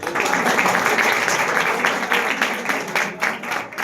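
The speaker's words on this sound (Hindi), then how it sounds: "आप लोग मेरे लिए भी थोड़ा बहुत तालियां बजा सकते हैं" A poetry recital audience claps for the poet in a dense, steady burst of applause that carries at even strength before thinning slightly at the end.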